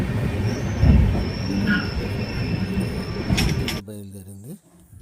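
A train pulls away on the rails with a rumbling clatter and a high metallic squeal, growing louder, then fading as a mechanical tone sweeps in near the end.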